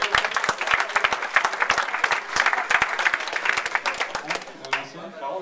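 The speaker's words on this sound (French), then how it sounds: "On applaudit les 40 qui ont réussi à faire." An audience at an HTML5 meetup claps steadily, dense close applause that fades out at the end, with voices talking over it.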